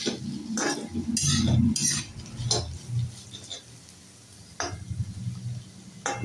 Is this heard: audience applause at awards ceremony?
no